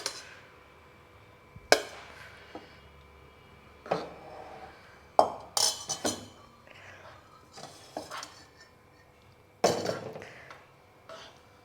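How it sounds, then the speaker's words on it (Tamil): Cooked rice is tipped into a pan with mint paste and stirred for pudhina sadham, sounding as sporadic sharp clanks and scrapes of a metal spoon against the pan, spaced a second or two apart in a quiet kitchen. "அந்த சாதத்தை போட்டு கிளறிடலாம்"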